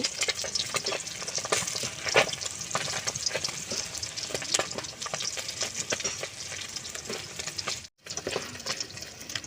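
Fish frying in oil, a dense close crackling sizzle with bursts of spatter and some stirring, broken by a brief dropout near the end, no one speaking.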